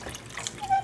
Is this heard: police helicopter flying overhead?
no